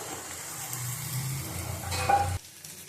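Bitter gourd, potato and onion crackle in a pan with a moderate sizzle and some stirring, which swells briefly and then cuts off abruptly.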